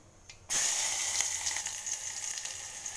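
Mustard seeds, cumin and onion hit hot oil and break into a loud, steady sizzle that starts abruptly and crackles on continuously, close up, with no voices.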